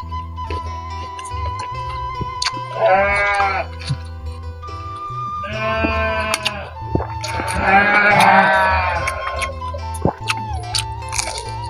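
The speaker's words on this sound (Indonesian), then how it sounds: "Ada sedikit suara domba, soalnya ini saya mukbang di pinggir kandang domba." Sheep bleating from a pen close by, three separate wavering bleats a few seconds apart, the last the loudest, over quiet eating sounds with small clicks and smacks from someone having a meal beside the pen.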